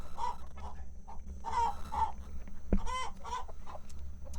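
Chickens in a temporary pen on a Minnesota food-forest farm cluck in repeated soft bursts, fairly close, with a brief sharper squawk partway through. No one talks over them.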